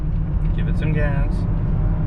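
2012 Toyota Highlander accelerating on the road: a low engine rumble and road noise that stay steady, with someone talking briefly over it.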